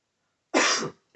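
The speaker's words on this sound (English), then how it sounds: "Also coming over a cough." Two sharp, close coughs from a person with a slight winter cough: a loud rasping burst about half a second long, then a second cough starting just after, with no talk over them.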